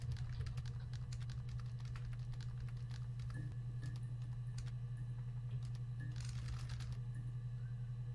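Keyboard typing effects from the game Her Story, a soft, scattered run of light clicks over a steady low hum, with a denser cluster of taps near the end.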